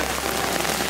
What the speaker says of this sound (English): It started raining. Literally pouring rain.